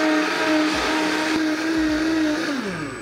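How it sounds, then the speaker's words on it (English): A blender runs on high through a tomato cashew sauce, a loud steady whirring roar with a shifting motor pitch that stays close and constant throughout, with no talking. "Back into the blender we go, and we blend on high for 1 minute."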